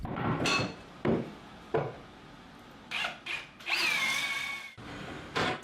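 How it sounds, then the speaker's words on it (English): Bursts of a drill with a 15/16-inch bit boring through the center of wood, several short whirring runs separated by pauses, with one longer sustained whine toward the middle. "use a 15/16 drill bit to drill a hole right through the center"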